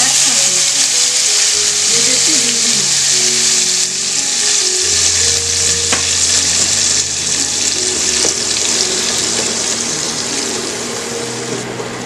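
Onion, ginger and garlic paste frying in oil for chital fish curry gives a loud, steady sizzle throughout, with faint scraping and some tonal hum underneath.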